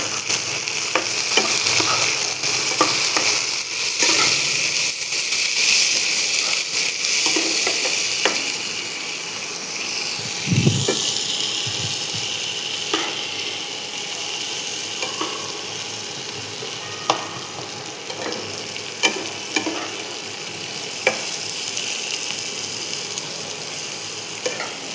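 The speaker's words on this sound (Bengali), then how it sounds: "পেঁয়াজটা একটু নরম হয়ে আসলে এখানে আমি ক্যাপসিকাম এবং টমেটো কুচিয়ে দিয়ে দেবো" Onion, capsicum, tomato and green chilli are stir-fried in a pan, a steady sizzle broken by scraping spatula strokes and occasional clanks against the pan, heard alone without speech.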